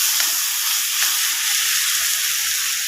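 Soybean chunks and spices sauté in a hot pan with a loud, dense, continuous sizzle and hiss at close range, with faint stirring scrapes and no talking.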